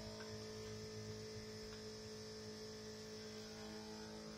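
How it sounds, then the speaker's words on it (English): An electric fuel pump runs on a car fitted with a Quick Fuel four-corner-idle carburetor, giving a faint, steady, continuous hum with no change in pitch and no talking. "Fuel pump is on."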